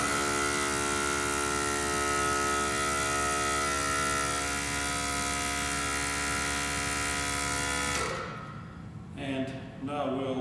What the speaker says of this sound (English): I'll take an air pump and we'll add air to the